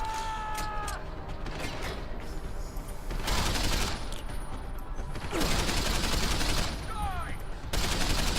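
Gunfire in the video game Deus Ex: Human Revolution comes in dense, loud sustained bursts that alternate with quieter stretches of game noise.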